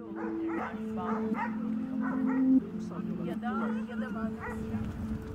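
Stray dogs in a Turkish street bark and yip in a busy jumble, some whimpering, over a steady low hum, with people's voices mixed in.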